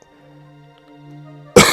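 A single sharp cough bursts out loud and close at the very end, after a stretch of near silence with faint low tones.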